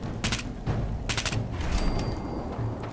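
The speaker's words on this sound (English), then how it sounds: "Oh, I hear gunfire over here." Gunfire in the video game Fallout 4: a few sharp, loud bursts of shots ring out at spaced intervals over a low, rumbling game ambience, with a thin high tone lingering near the end.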